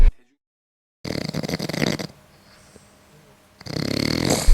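Loud, rasping snores come in two long bursts separated by a quieter pause, close by and rough-textured.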